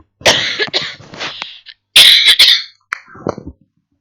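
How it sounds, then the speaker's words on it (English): A man coughing loudly at his microphone during a webcomic livestream: several harsh, close bursts in quick clusters, then a raspier throat-clearing cough and a few smaller coughs trailing off, with no speech. "Yeah, I can still cough very loud."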